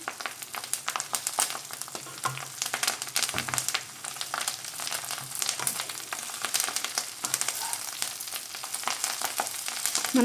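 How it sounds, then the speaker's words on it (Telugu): Curry leaves fry in oil for an Andhra-style pickle, giving a steady crackling sizzle with dense pops and spits throughout, moderately loud and close, with no talking. "తీసుకుని దీన్ని ఆయిల్లో ఫ్రై చేసుకోవాలన్నమాట"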